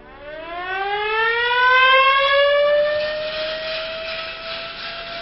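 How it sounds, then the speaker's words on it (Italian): A civil defense siren wails over the town of Foligno, Umbria, in 1960, its tone rising steeply and then holding a loud sustained howl that slowly eases, heard at a distance with no voices. "L'urlo della sirena ci ha distolti dal nostro giro turistico."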